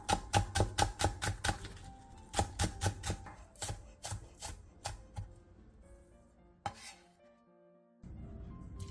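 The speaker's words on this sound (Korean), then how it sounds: "청양고추 1개, 홍고추 3분의 1개, 대파 3분의 1개를 길게 반으로 가른 뒤 쫑쫑 썰어주세요" A knife finely chops a Cheongyang chili, part of a red chili and a piece of green onion, each halved lengthwise, on a cutting board. Quick, even taps come close and quiet in steady runs, slowing toward a pause near the end.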